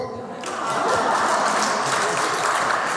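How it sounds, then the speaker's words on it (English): An audience at a plenary session breaks into sustained applause, swelling after half a second into a steady, dense wash of clapping that stays loud to the end. "Big round of applause, everybody."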